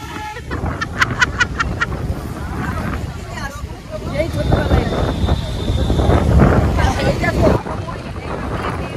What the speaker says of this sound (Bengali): বিশাল জোরে হাওয়া দিচ্ছে